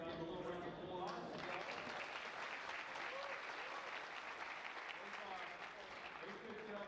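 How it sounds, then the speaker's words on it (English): A foosball tournament audience at the Tornado World Series gives a sustained round of applause, dense and steady for several seconds, following a brief spoken introduction. "Give a little round of applause"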